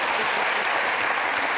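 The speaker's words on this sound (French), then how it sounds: "Applaudissements pour Patricia" Studio audience applause for Patricia on a talk show, a loud, dense, even burst of clapping from a crowd throughout.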